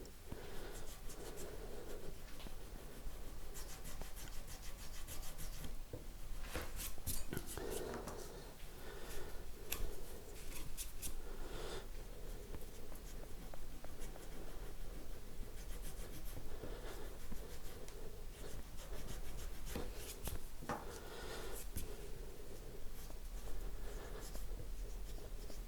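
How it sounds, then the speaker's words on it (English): A flexible rubber abrasive block scrubs along the frets of a bass guitar neck, a steady, close scraping rub that continues without pause for the whole stretch, with no talking. "it's abrasive, suspended in a rubber medium, and they're kind of flexible, and they get into all the little nooks and crannies really nicely"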